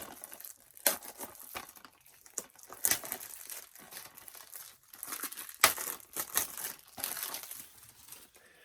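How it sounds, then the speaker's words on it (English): Plastic wrap being pulled off a Blu-ray case, close crinkling and crackling in irregular bursts with several sharp louder rips across the stretch. "Okay, so that's the plastic removed."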